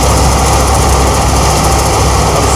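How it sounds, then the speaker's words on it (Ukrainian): A machine threshing soybeans runs with a loud, steady engine drone and a dense mechanical roar and vibration, close by and unbroken, with no speech. "Рішили змолотити сою."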